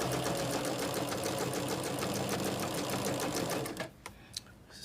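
A sewing machine runs continuously with a quick, even rhythm as it stitches flying geese quilt blocks, then stops near the end, leaving a couple of soft handling clicks.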